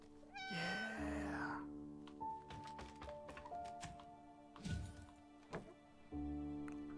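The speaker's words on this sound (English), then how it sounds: "Look at all the cats we get to pet." Cats in the video game YesterMorrow give several clear, close meows while being petted, over a soft steady game music bed, with scattered light clicks and no talking.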